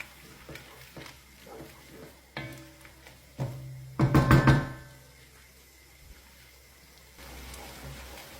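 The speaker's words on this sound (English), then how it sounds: "Stir very well to combine and allow it to fry until it caramelizes." Onions and basil frying in a pot while being stirred, giving soft scraping and knocking of the spoon with a brief louder clatter midway, then a quiet background sizzle.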